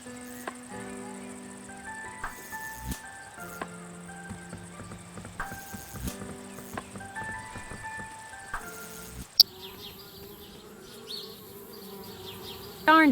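Cartoon bees in the PC adventure game Anna's Quest, near a treehouse, give a steady buzzing drone with melodic music tones over it. A different, noisier ambience takes over near the end.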